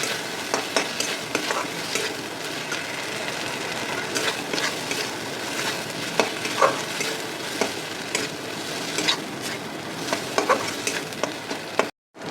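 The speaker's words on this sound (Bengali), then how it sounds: "একটু ভাজা ভাজা করে নেব" Cumin, coriander and garam masala fry in oil while being stirred, a steady close sizzle with scraping stir strokes throughout, ending abruptly.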